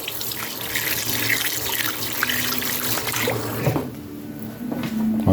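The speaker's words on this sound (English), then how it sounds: "There is flowing water. There is soap. And here is flowing water." Water pours steadily from a tap at a handwashing station, a close, continuous splashing stream that thins and changes toward the end as the flow shifts.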